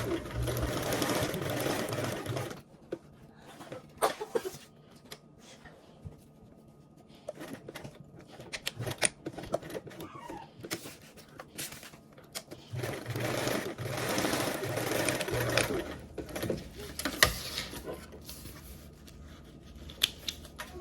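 A sewing machine runs a dividing stitch down a garment pocket, whirring in several bursts separated by pauses, with fabric being handled in between; fairly close and steady, with no talk.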